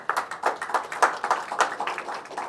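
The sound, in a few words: audience applause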